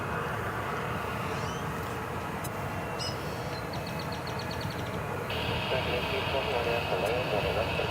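An airliner takes off at DFW Airport bound for San Francisco, a broad, steady jet-engine roar that swells slightly toward the end, with someone talking over it.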